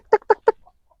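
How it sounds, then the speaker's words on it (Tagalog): Three quick, close clucks from a hen in an even rhythm, followed by a couple of faint peeps from chicks. "Daming sisiw."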